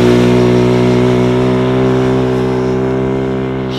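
A restricted motorcycle pulls at full throttle, its engine a loud, close, steady droning roar that holds strong and eases only slightly toward the end, with no talk over it.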